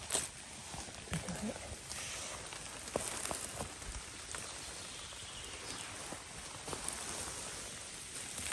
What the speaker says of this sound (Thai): ฝนก็ปล่อยๆทั้งวันวันนี้ค่ะ